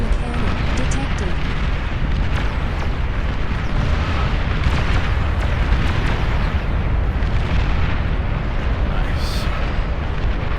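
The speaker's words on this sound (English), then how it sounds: "Long-range plasma cannon detected." Long-range plasma cannons fire and shells explode in the real-time strategy game Beyond All Reason, with a dense, loud, continuous rumble of overlapping blasts and booms and no pause.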